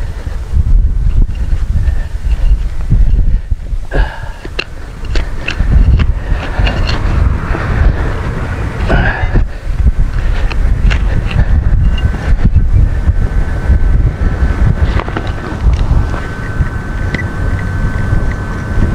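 Strong wind roars steadily across the microphone outdoors during metal detecting, a dense, loud, continuous rumble with occasional faint clicks and knocks on top.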